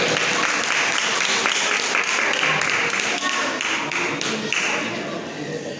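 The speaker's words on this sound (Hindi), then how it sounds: "सभी लोग जोरदार तालियों से स्वागत करें" Audience clapping in welcome at a Jain pichhi-changing ceremony, a close, loud crowd of hands with rhythmic taps and thuds standing out, steady throughout and easing slightly toward the end.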